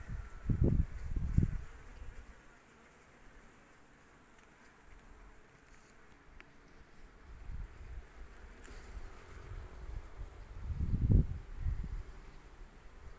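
Honey bees buzz steadily around a hive frame holding capped brood, eggs and nectar, a continuous insect drone with some wind noise and louder swells near the microphone at the start and end.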